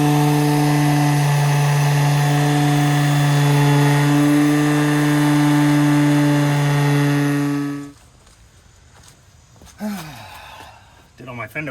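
A power sander whines loudly and steadily for several seconds sanding old paint off a Datsun 620's metal bodywork, then cuts off, leaving quiet room noise and a few faint sounds.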